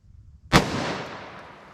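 A single .357 Magnum round fired from a 4-inch barrel: one sharp, loud crack with a sudden onset, followed by a long, ringing decay of echo trailing off over more than a second, with no talk.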